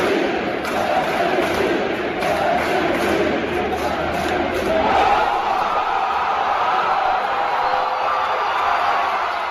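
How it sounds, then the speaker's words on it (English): Dense stadium crowd noise at a baseball game, a sustained roar with rhythmic chant-like swells, building louder midway as fans erupt over a home run, Raleigh's 60th. "take a listen to the crowd chanting MVP and then hear the roar of the crowd when Raleigh smashes that home run for number 60"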